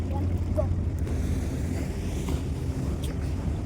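A tourist boat cruising on Ha Long Bay in Vietnam, with a steady low engine rumble and wind noise filling the whole clip and no talking heard.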